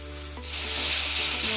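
Water poured into frying ginger-garlic paste, starting as a low stirring scrape and swelling into a loud, steady, close hiss of steam and sizzle.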